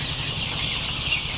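Tiger chicken chicks cluck and peep steadily, a soft continuous chorus of young birds close by with no pauses.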